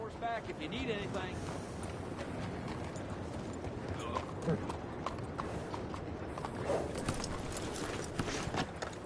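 In the Red Dead Redemption 2 video game, a horse's hooves clip-clop steadily at a walk over a busy ambient bed, with people talking.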